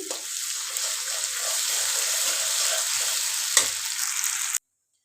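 Ginger, garlic and cumin frying together with already browned onions for beef tripe bhuna, a continuous close sizzle with a faint utensil knock before it stops abruptly near the end.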